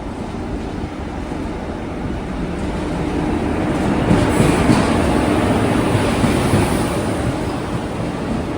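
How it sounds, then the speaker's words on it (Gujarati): Bhuj Rajkot summer special express train arriving at a station, a loud rolling rumble of wheels and carriages that grows stronger midway and carries on with a rail hiss, no talking. "આપણી ટ્રેન અત્યારે આવી ગઈ છે."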